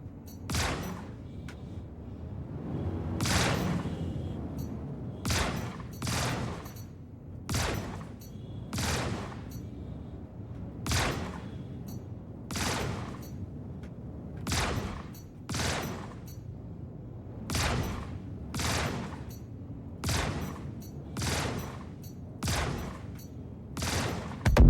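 Ship weapons in the Star Citizen game fire at an enemy craft in repeated loud, sharp bursts, roughly a dozen or more volleys spaced a second or two apart over a low background hum.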